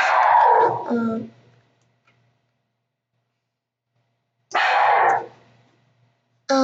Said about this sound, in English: Is the dog bothering anyone?